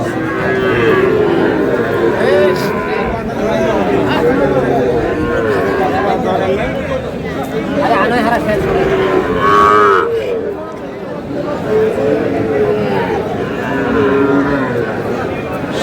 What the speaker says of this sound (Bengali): কেমন দামের শাহিওয়াল জাতের ষাঁড় বাছুর গরু বাছাই করা হচ্ছে